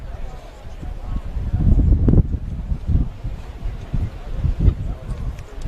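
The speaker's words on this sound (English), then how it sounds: "these horrendous windy conditions here at Gibson Park" Strong gusts batter an outdoor rugby league ground at Gibson Park during a Thirroul v Dapto first-grade match, a deep rumbling roar that swells and buffets close to the microphone and never quite lets up.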